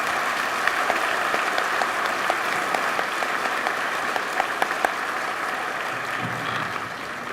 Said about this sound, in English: Please give me a round of applause for the wonderful program and the kids here.